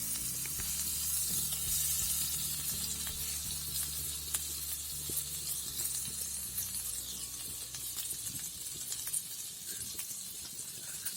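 Butter sizzles steadily on a hot cast iron dosa pan for pav bhaji, a continuous bright hiss with faint stirring clinks near the close, no voices over it.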